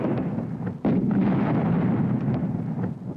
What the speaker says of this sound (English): those shells have been crashing down on German pillboxes and gun positions, mortar positions, headquarters, roads, concentration areas